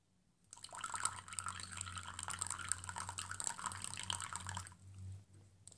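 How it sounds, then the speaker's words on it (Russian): Boiling water pours from a kettle into a teacup in a steady trickling stream that lasts about four seconds and then stops, close and fairly quiet. "В чашку наливаем кипяток."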